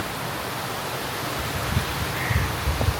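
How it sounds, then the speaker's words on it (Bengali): Wind and approaching heavy rain make a steady broadband rush, with a few soft low thumps and gusts building toward the end. "এই যে বৃষ্টিটা ওই দিক থেকে আসতেছে সেই তীব্র বেগে আসতেছে বৃষ্টিটা"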